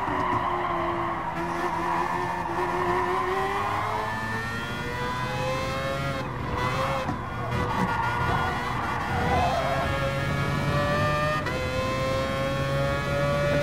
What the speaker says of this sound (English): This is not the moment to be drifting.